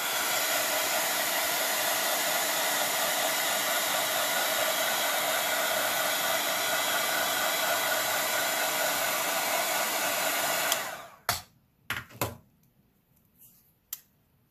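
A hair dryer blows steadily and loudly for about ten seconds to dry paint on a rock fairy house, then cuts off, followed by a few sharp clicks and knocks.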